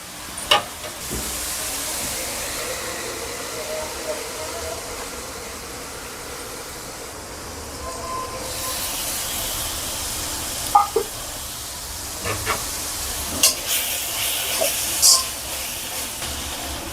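Tomatoes sauté in a pan for tomato rice, giving a steady, soft sizzling hiss throughout. A few sharp utensil clatters break in toward the end, and a voice speaks over parts of it.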